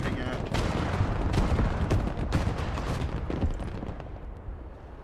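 Sustained battlefield gunfire from the video game Broken Arrow, a dense, continuous rattle of fusillade and machine-gun bursts with distant explosive thuds, loud throughout before easing slightly at the end.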